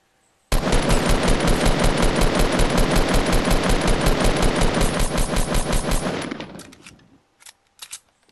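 Long unbroken burst of rapid automatic gunfire from the video game Fortnite, loud and close with an even rhythm for several seconds, then trailing off into a few scattered final shots.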